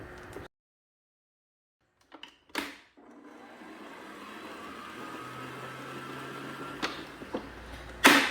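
A stand mixer kneads savory panettone dough, a steady motor whir after a brief silence and a few clatters, with sharp knocks and slaps against the bowl, alone without talk.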